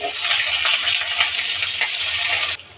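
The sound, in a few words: beans frying with garlic and green chili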